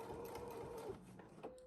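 Sewing machine stitching a quilted box bag, a short run of rapid mechanical whirring and clicking that slows and stops near the end.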